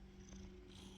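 A cat purrs close up, a low steady rumbling purr that is quiet and continuous throughout.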